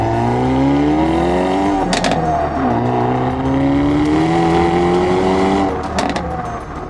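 Hyundai Elantra N TCR Edition driven hard on a race track, engine note climbing through the revs with gear shifts around two and six seconds, loud and close from inside the car.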